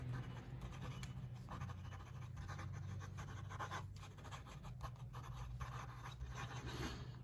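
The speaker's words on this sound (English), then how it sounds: "Quick writing." An x550 big metal fountain pen writing quickly on paper gives faint, continuous scratchy nib strokes over a low background hum.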